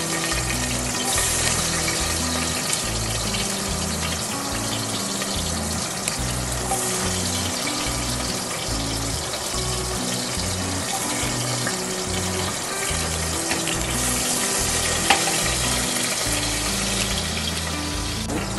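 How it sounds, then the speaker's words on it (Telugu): Chopped onions frying in a little hot oil in a pressure cooker, for a Hyderabadi-style brinjal and spinach dish, give a steady, even sizzle that holds up close throughout. "కుక్కర్ పెట్టుకొని కొద్దిగా ఆయిల్ వేసుకున్నాను. ఆయిల్ వేడయ్యాక ఆనియన్స్ వేసుకోవాలి."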